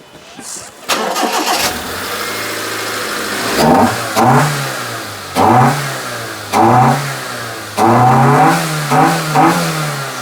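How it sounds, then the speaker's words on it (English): A car engine with its air filter disconnected cranks, catches and settles into a loud nearby idle, then is blipped in a series of short, rising revs separated by steady idling. "See if it runs better with the air filter disconnected"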